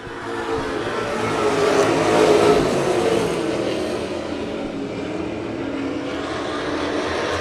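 Pro stock race cars roar out of turn 2 on a racetrack, a loud sustained engine drone that swells to a peak and holds steady as the pack accelerates, with no talk.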